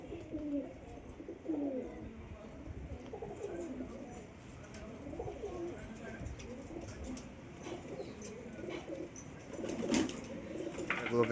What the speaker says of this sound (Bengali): সাদা লক্কাটার ডাক দেখুন কেমন